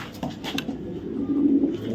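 Racing pigeons, a pair of white-eyed birds, give soft low coos close by over a quiet background, with one sustained throaty coo in the second half.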